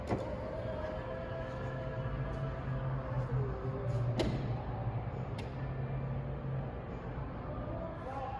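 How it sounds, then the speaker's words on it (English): The power liftgate of a 2017 Mercedes-Benz GLE 43 hums as it closes, with a motor whine that dips in pitch midway, followed by a sharp latch click and a softer thunk. "And you can easily close up your power liftgate up with this button."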